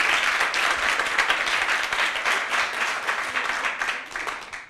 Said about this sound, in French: je voudrais demander aux jeunes de s'applaudir